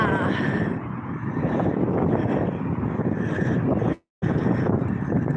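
Strong wind roars and buffets the microphone continuously during a ride, loud and close, with a brief dropout near the end before the gusting resumes.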